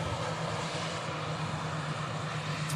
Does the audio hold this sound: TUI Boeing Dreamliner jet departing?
yes